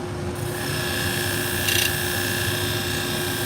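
Salon shears are sharpened lightly on a powered sharpening machine, a steady motor hum with a faint grinding rub and one brief brighter scrape as the blade touches, close and even.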